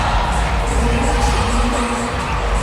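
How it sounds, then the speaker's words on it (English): Crowd cheering and roaring at a judo Grand Prix arena in Antalya, a dense, steady wall of shouts and applause with no talk over it. "There's the crowd."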